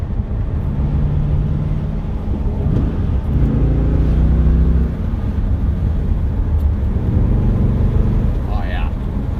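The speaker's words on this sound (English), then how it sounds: "Really feel that torque of the motor and the compression." A Pontiac GTO's engine pulls under acceleration while driving, a loud, steady low rumble rising in pitch as it climbs through the gear, heard from inside the car with a voice speaking over it.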